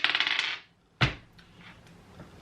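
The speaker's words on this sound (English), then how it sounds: "Roll the dice, let's see what it says." Dice rattling and tumbling across a surface for about half a second, followed by a sharp knock as one lands, then a faint clatter settling, heard alone and close.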